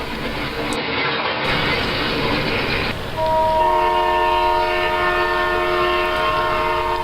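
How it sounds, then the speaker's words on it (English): A B&O diesel coal train headed by a pair of F7 locomotives rumbles past with a steady clattering roll, then a loud chord horn sounds and holds for several seconds over the engine noise. "there's a B&O coal train rolling through, headed by a pair of F7s"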